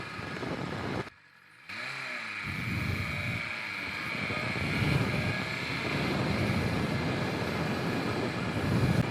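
A BMW S1000RR motorcycle on the move, its engine blending into a steady broadband roar of wind and road noise that cuts out briefly near the start, then builds and holds strong.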